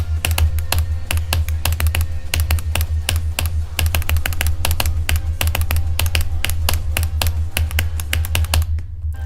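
Rapid computer keyboard clicking while playing Geometry Dash on an extreme demon level, dense irregular taps close and loud over steady game music, with no talk.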